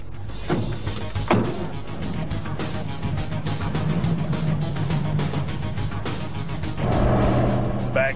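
A Plymouth Superbird carries passengers on a ride, its engine droning steadily with a louder surge near the end, while voices speak over the car noise.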